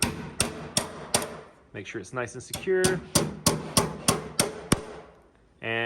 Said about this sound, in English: Just hammer that right into the door.